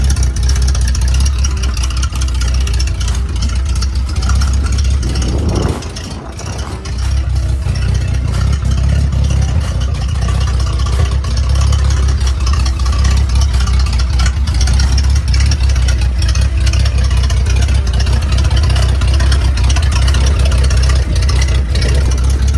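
A rough, rumbling engine of a 1941 Plymouth barn-find car idles steadily and loudly throughout, with a brief dip in the sound partway through before the churning resumes.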